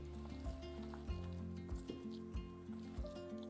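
A kadai of cooking oil heating on a stove before dal goes in, giving a steady close sizzle with small pops and a faint tonal hum under it, and no talking.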